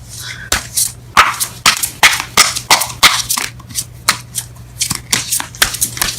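Tarot cards are shuffled by hand up close, a steady run of quick riffling bursts and soft slaps, loud and crisp.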